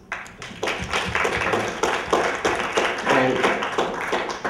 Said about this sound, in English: that just deserves a round of applause